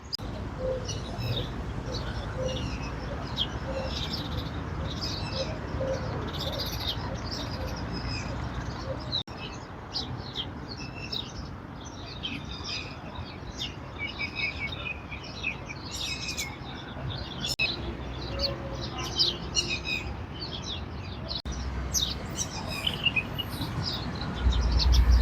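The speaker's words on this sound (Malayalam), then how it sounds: "ഇതുപോലുള്ള ചെറിയ ചെറിയ കുഞ്ഞു കുഞ്ഞു കുരുവികളാണ് കേട്ടോ." Small sparrows chirp in trees during a morning walk in International City, many thin tweets scattered across a steady outdoor background hum, moderately near and continuous.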